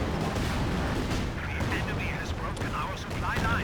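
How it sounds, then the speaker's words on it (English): High explosive artillery barrage in Company of Heroes 2, a continuous rumbling roar of shell impacts and blasts filling the battlefield, with game voices and effects layered on top. "high explosive barrage. Oof, oof. That Ostrupman squad just gets nailed there."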